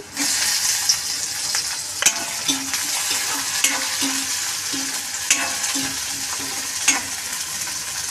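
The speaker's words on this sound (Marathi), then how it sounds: "टोमॅटो टाकते मी।" Tomatoes for a Surti papdi bhaji sizzle in a hot pan, a steady frying hiss broken by repeated scraping stir strokes and occasional sharp clinks of the spoon against the pan, close and clear, with no talking.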